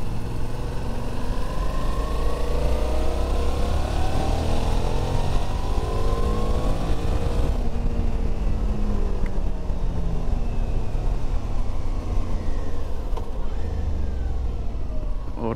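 A Suzuki V-Strom motorcycle engine runs at about 2000 rpm in third gear while riding, giving a continuous loud drone with shifting harmonic tones and rushing road and wind noise throughout.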